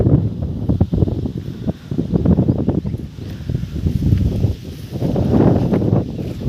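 Gusty wind from an approaching storm buffets the microphone in low, rumbling bursts that swell and fade throughout.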